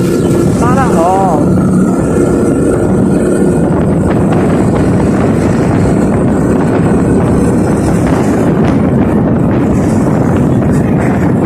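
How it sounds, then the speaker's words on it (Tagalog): Heavy wind buffeting the microphone on a road trip along EDSA, a constant low roar with rumbling gusts, while a voice talks underneath. "Wala nga lang kung dinig yung boses natin dito sa video. Lakas ang hangin."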